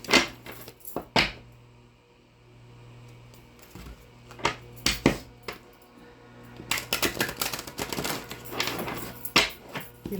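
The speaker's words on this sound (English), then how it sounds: "Get you some good shuffles in" A Golden Dawn tarot deck is shuffled by hand, with bursts of crisp riffling and flicking cards close by, separated by short pauses and ending in a longer dense stretch of shuffling.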